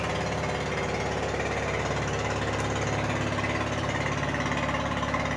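A motorized boat's engine chugs in a steady, unbroken rhythm, fairly loud and near, as the boat passes by the village of Kaliso, with no voices.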